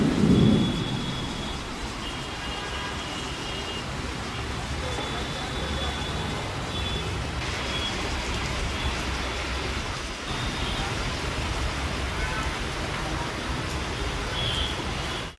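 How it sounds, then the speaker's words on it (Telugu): Heavy rain pours across Hyderabad in a dense, unbroken roar of hiss, with a brief low rumble at the start and a steady downpour throughout. "నగరంలో పలుచోట్ల భారీ వర్షం కురుస్తోంది"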